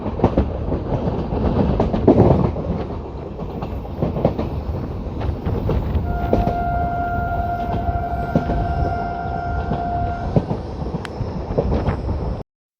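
An LHB-coach 11906 Hoshiarpur Agra Cantt Express running on the rails, a loud continuous rumble with rhythmic clickety-clack, and a sustained horn-like tone sounding midway before fading.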